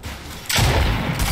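Shotgun blasts in a video game, a short muffled rumble followed by a louder, sustained roar of heavy gunfire with a deep thudding low end, close and dense, with no talking over it.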